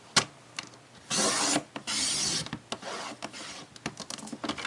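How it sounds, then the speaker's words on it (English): Cardstock being cut on a paper trimmer, with a couple of long rasping slices of the blade and scattered clicks and taps of the paper being handled, close and fairly quiet. "So I need to trim these down to 5 now."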